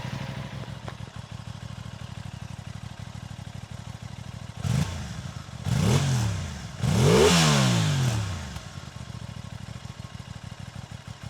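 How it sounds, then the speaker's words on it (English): An Aprilia Tuono 660 motorcycle with an SC Project exhaust idles with a steady putter, then revs three times in quick succession, each throttle blip rising and falling loudly before settling back to idle. "We're gonna go for the warm revs."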